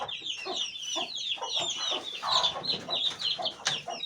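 Chickens and chicks cluck and cheep steadily in a poultry shed while fresh straw is spread on the floor, with a dense overlapping chorus of short calls and higher peeps, moderately loud and close.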